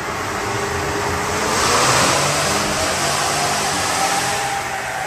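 A Toyota Tundra with the 3.4L twin-turbo i-Force engine runs on a dyno, giving a loud, steady broadband roar of engine and rollers that swells briefly in the middle.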